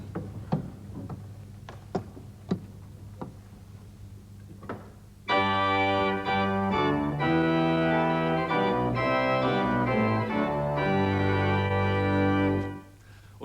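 A few faint clicks and knocks give way to a full pipe organ with all stops drawn, a loud, rich, sustained passage of chords lasting about eight seconds before cutting off.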